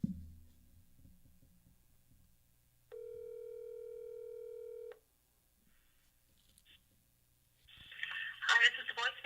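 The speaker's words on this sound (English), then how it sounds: "I'm calling White Boy Rick's lawyer." A phone dials out to a lawyer's office: brief keypad noise, then a single steady two-second tone, followed by a pause and a burst of crackly line noise.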